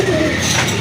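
Rajgolla pigeons at a pigeon sale, with a brief, close, low murmuring coo over a steady background.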